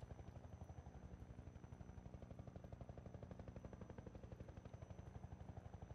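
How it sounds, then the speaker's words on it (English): A Half-Life 2 helicopter thrums with rapid, steady rotor chopping throughout, a constant mechanical pulse at moderate distance with no talk over it. "let me disable the AI so the helicopter doesn't bother us real quick"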